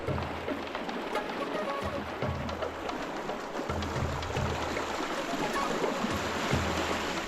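Shallow rapids on the River Wye rush in a steady, close broadband wash of water, with low thumps and rumbles mixed in throughout.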